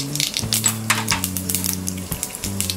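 Mustard seeds sizzle and spit in hot oil in a pan, a steady close hiss with crackling pops, over a low sustained musical tone.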